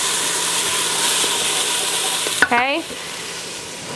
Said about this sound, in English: I have just been sauteing these for the last few minutes, just getting them a little bit softened.